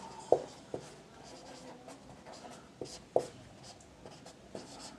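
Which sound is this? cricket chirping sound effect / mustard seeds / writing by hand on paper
writing by hand on paper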